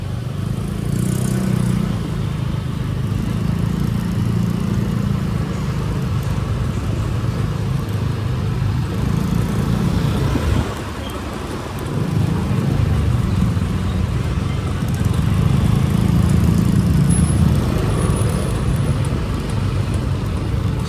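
Congested street traffic in Sanur, Bali: a loud, continuous drone of car and scooter engines idling and creeping close by, swelling and easing in waves, with a brief lull partway through and no talking.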